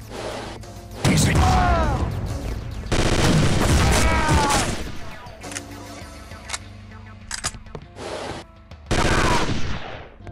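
Bursts of rapid gunfire and grenade blasts in the video game Chaser, with a FAMAS rifle and its grenades, come in loud clusters separated by short quieter gaps, with chirping effects mixed in.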